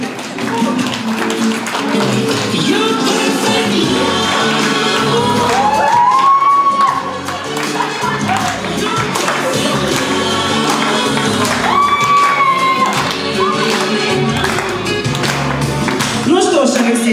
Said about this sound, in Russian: Аплодисменты, гости, аплодисменты.